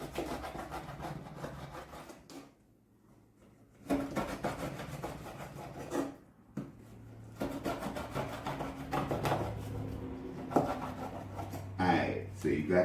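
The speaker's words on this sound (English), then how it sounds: "you just take your knife and cut them in little bite-sized pieces" A knife slices pork skin into small bite-sized pieces, a run of rough, rasping cuts repeating with short pauses, close up, while a person talks throughout.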